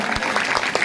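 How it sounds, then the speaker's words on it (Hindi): Brief burst of dense clapping from an audience at a Sheetal Mata temple gathering during a Ram Katha, loud and close, under a moment with no talk. "आप जोरदार तालियां बजाइए मंदिर निर्माण की।"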